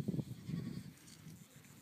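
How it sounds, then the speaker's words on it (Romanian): Goats bleat at a rural countryside farm, a couple of loud nearby calls early on, then fading to quieter farmyard sounds. "Capre"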